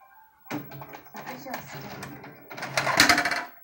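A Toshiba MV19M2 TV/VCR combo ejects a videotape with a string of mechanical clicks, taps and whirring clatter, growing louder toward the end.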